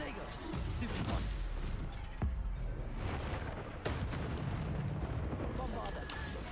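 Bombarda blasting spell in a Harry Potter wizard duelling game: heavy booming explosions with a rumbling low tail over a constant dense roar, including sharp blasts a couple of seconds apart, and a voice faintly under the noise.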